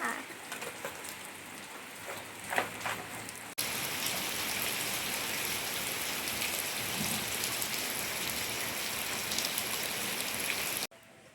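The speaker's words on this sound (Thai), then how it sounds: "วันนี้ใช้น้ำฝนล้างนะคะเพราะฝนตกพอดีค่ะ" Steady rain pours down on a surface outdoors, a dense hiss that starts abruptly and continues evenly, after a quieter stretch with a few scattered sounds.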